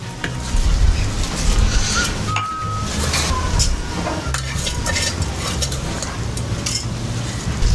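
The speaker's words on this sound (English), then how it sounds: "So I'll add in my basmati rice that we had prepared earlier on" Basmati rice being added and stirred in a pot of Swahili beef pilau, a steady scraping and clattering of spoon against pot with soft sizzling underneath, continuous and fairly close.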